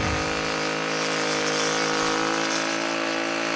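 A string trimmer attachment cuts along the edge of a landscape bed with a continuous, steady motor whine that holds loud and close without a break.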